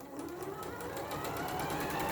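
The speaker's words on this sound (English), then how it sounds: "I'm just sewing a 1/4 inch seam allowance" A sewing machine stitches a quarter-inch seam on quilting fabric, a quiet rapid steady whirring clatter of needle strokes that builds slightly in speed.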